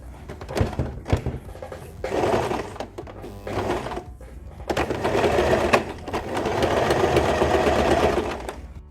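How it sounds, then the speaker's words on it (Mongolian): A sewing machine stitches a Mongolian deel garment, starting with a few short runs and clunks and then settling into longer, steady, close-up whirring stretches of rapid needle chatter. "За мөн энэ хэсгийг оёх хэрэгтэй байгаа."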